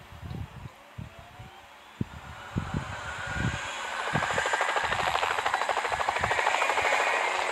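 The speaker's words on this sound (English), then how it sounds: "Firefighting helicopter." Firefighting helicopter in a children's car video game, a steady whirring rotor chop that swells louder over several seconds, with scattered soft thumps and clicks from the game early on.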